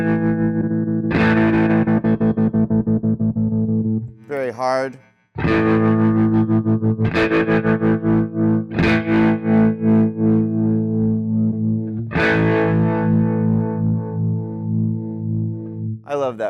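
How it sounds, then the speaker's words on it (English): An electric guitar played through a phaser pedal on its harmonic setting rings out in sustained chords and notes with a sweeping, swirling tone, pausing briefly before resuming; a voice speaks briefly. "I love that phasey sound"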